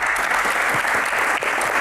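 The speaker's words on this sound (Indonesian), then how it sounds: "Tepuk tangan." Loud, dense applause from an audience at a live Q&A show, a continuous roar of clapping that holds strong throughout with a brief dip near the middle.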